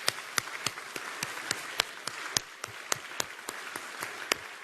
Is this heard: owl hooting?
no